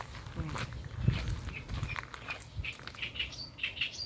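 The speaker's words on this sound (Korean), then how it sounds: "새소리 봐." Faint bird chirps scattered over a low outdoor rumble, with soft footsteps and light handling noise nearby.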